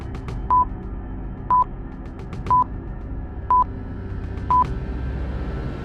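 Five evenly spaced electronic bell-like beeps, each short and clear, repeat about once a second over a steady low background hum.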